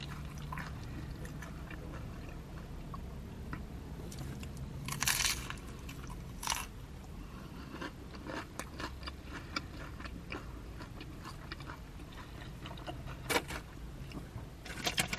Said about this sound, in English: You gotta eat those crunchy tacos fast too.